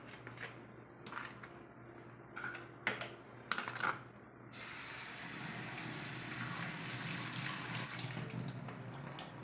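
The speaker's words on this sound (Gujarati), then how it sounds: "તો હવે આપણે સૌથી પહેલાં આ કારેલાની છાલને ધોઈ લેશું." Bitter gourd peels are washed under running water in a kitchen sink: a few light clicks and taps, then a steady, close rush of tap water pouring over them for the rest of the clip.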